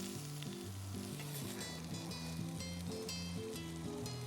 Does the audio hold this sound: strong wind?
no